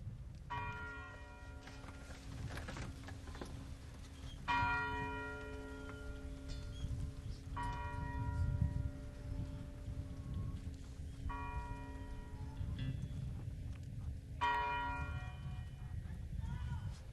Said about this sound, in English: they are ringing the bell 39 times in honor of Dr.